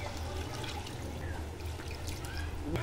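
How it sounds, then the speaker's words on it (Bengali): Water trickles and pours steadily into a cooking pan of chicken and potatoes being braised for Bengali chicken kosha, a continuous close splashing stream with no talk. "সেদ্ধ হওয়ার জন্য দিয়ে দিচ্ছি জল"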